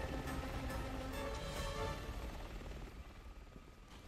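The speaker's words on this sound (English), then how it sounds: "Am I supposed to just shoot the helicopter from here?" A helicopter in Resident Evil 6 drones steadily at a moderate distance, its low rotor rumble continuous and gradually easing slightly in level.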